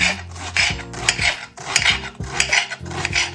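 Rapid rasping chops of a knife dicing onion into cubes on a cutting board, coming in quick bursts with brief pauses between.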